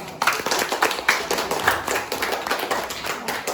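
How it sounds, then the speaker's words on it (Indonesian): A class applauds a group's presentation, steady close hand clapping from many people that starts abruptly and keeps going with a few sharper individual claps. "Nah, kasih aplaus."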